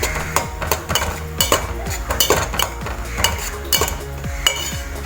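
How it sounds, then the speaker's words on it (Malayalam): Noodles are stirred in a pan with a metal utensil that clinks and scrapes repeatedly against the pan, in an irregular steady rhythm up close with no talking. "നമുക്കിത് ഇളക്കിയെടുക്കാം."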